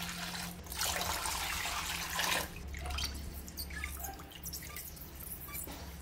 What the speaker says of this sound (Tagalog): Maglagay ng 2 litrong tubig.